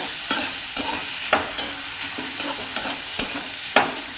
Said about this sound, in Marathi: त्याच्यात मूग टाकून घ्यायचे अगोदर ते असे एक मिनटासाठी असे हलवत राहायचे